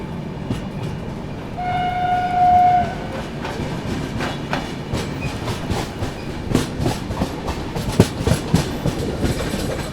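Gitanjali Superfast Express runs through a junction without stopping, with a short horn blast early on over a steady rolling roar and rhythmic wheel clicks over rail joints.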